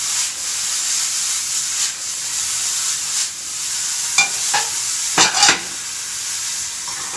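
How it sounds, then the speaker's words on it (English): Golden-brown potatoes sizzling in a pan as tomatoes and salt are stirred in, a steady frying hiss with a few sharp scraping and stirring bursts toward the end, no talking. "I'm going to go in with the tomatoes and the rest of the salt. Give that a good mix."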